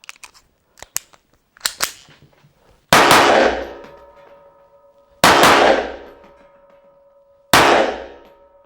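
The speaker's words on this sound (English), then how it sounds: "Now a bit of point shooting at about 5 meters." An FN 1910 pistol fires at steel targets from about five meters: a few light mechanical clicks, then three loud, evenly spaced shots, each followed by a ringing metallic clang from the struck steel.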